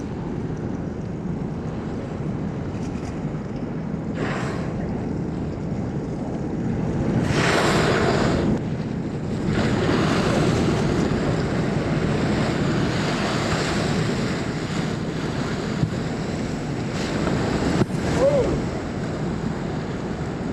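Ocean waves wash and swell under a steady roar of wind buffeting the microphone, surges rising and falling over twenty seconds, recorded out on the water around killer whales, no voices.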